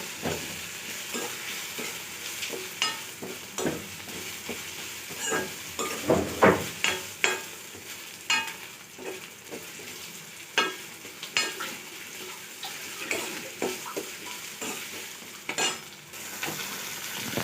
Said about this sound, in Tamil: ஸோ இப்போ வந்து வெங்காயம் கொஞ்சம் வதங்கிடுச்சு.